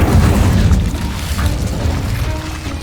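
An Incendio fire spell is cast in Hogwarts Legacy on PC, a loud, low, rumbling boom that swells at once and slowly fades over a few seconds.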